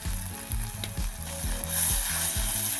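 Chicken sautéed in a pan with chili and turmeric powder gives a steady sizzle, with rhythmic scraping strokes of a spatula stirring about twice a second, nearby and moderately loud.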